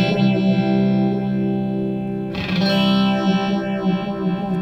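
A Wombtone mkII pedal's modulation effect on a sustained electric guitar tone, with slow sweeping phaser-like swells and a fresh strum midway, heard loud and close with no talking.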